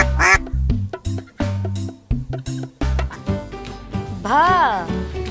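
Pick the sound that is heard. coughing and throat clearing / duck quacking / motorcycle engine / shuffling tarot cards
duck quacking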